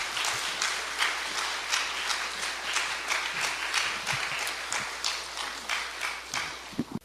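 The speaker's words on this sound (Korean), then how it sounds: "우리 박수하면서 우리 강사 목사님을 환영하겠습니다." A church congregation claps to welcome a guest pastor at a revival service, a sustained round of many hands with scattered sharper claps, fairly close and even in level until it tapers at the end.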